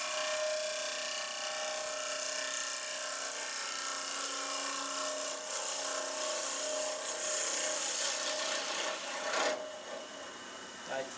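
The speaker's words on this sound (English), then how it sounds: "Do another cut with the gouge and then, sorry, with the mate tool, and I'm just interested to see what the finish is like." A turning tool cuts olive burl spinning on a wood lathe, producing a continuous loud scraping rasp over the motor's whine, with a brief sharper swell near the end.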